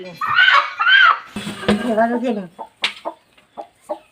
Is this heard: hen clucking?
yes